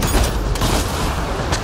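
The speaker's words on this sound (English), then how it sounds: "I'm gonna shoot off all my concussive shots at it" Concussive shots firing in Mass Effect Andromeda, several sharp bursts over dense, continuous combat noise, loud and close, with no talk.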